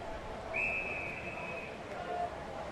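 An umpire's whistle at an Australian football representative match: one long shrill blast, then a shorter distant toot, over steady crowd and field noise.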